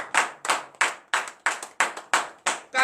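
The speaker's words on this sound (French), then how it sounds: "Que je vous prie d'acclamer très très fort ce grand Dieu." A congregation at a Saturday morning prayer service in Benin clapping in a steady rhythmic beat, about nine loud, sharp claps close together, with a voice starting at the very end.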